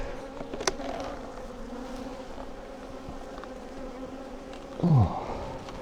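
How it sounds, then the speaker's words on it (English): Honey bees hum in a steady, dense buzz at a large, crowded spring hive, with one louder bee passing close near the end. "this is by far the biggest spring hive I've had yet"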